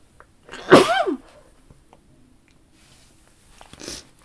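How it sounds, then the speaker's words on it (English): A single loud, explosive sneeze bursts out near the mic, followed by quiet and a faint rustle a few seconds later. "that was a big sneeze"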